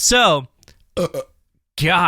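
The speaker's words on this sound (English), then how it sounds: "I can't stop burping." A man burps loudly after drinking beer: three throaty belches, the first and last long and full, the middle one shorter, separated by brief silences.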